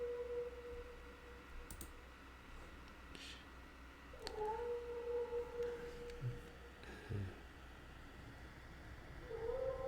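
A cat in the horror video game The Last Door lets out drawn-out, wavering yowls, faint and eerie against a quiet, humming background.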